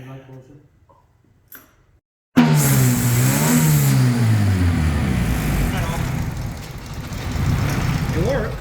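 An EG car with an LSV turbo swap fires up and revs hard, a sudden loud rising-and-falling engine roar after a couple of seconds of quiet with brief voices, continuing as a close, sustained rumble.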